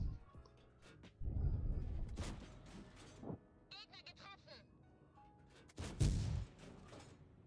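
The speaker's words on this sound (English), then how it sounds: "I just fired an HE shell at him for the memes" A tank fires a high-explosive shell in World of Tanks, heard as a heavy boom that is louder on one shot near the end, over a low engine rumble and mechanical clanks.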